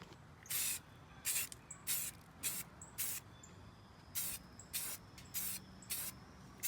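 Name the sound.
spray paint can spraying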